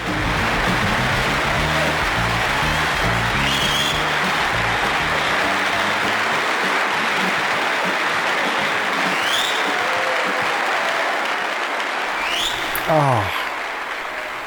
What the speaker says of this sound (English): They're fading the applause in like that.